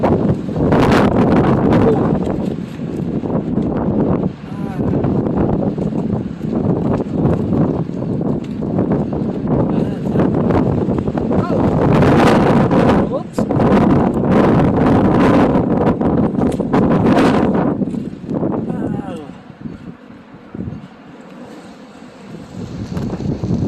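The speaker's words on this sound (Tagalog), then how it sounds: "Biglang lumakas yung hangin," Strong gusting wind during a snowstorm roars loudly and continuously into the microphone, with heavy buffeting that eases briefly near the end.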